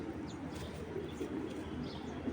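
A big-sized female military (cheetah military) pigeon, about ten days old, coos softly amid faint background chirps, low and continuous, with no speech.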